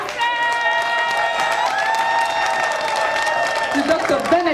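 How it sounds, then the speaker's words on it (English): Applause from a graduation crowd fills the space, a steady wash of many hands clapping with a few cheers, continuous and fairly loud throughout, with no talk over it. "give a huge hand of applause to Dr. Randy Ta,"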